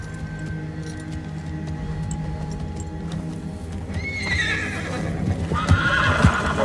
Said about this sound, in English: we see Bran riding his horse with his brand new saddle designed by Tyrion